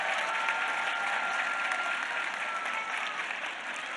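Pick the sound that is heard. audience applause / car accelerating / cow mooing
audience applause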